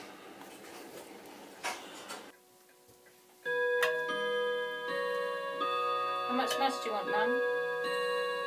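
A clock ticks and chimes, its bright sustained tones ringing clearly after a stretch of quieter rustling and voices, with soft tapping mixed through the resonant chime.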